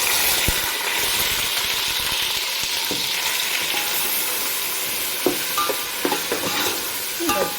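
Ground onion frying in hot oil for chicken curry, sizzling steadily while a utensil stirs and scrapes the pan, with a few louder clinks and scrapes near the end; no one speaks.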